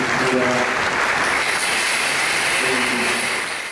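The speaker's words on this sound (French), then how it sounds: "Je vous demande d'applaudir." Loud, dense applause from a large crowd at a political rally, continuous for several seconds with voices mixed in, then starting to fade at the end.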